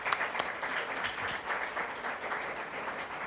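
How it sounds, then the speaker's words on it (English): An audience at a business honors ceremony applauds the honorees, a dense, even wash of clapping that holds steady throughout. "I would love to just lead another round of applause for everyone who is on this very distinguished list"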